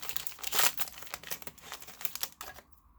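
A 2020 Topps Stadium Club retail card pack being torn open: loud crinkling and ripping of a foil wrapper up close, a burst of tearing followed by scattered crackles and rustles before fading out.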